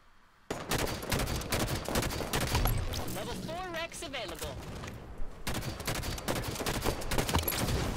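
Carbine gunfire in Call of Duty Warzone: a near-continuous string of loud, rapid shots and bursts runs almost the whole time, crackling alongside other battle noise and effects.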